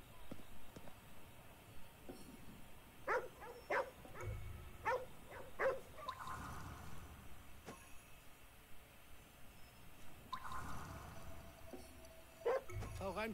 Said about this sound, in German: Ne, das ist noch ein Hund.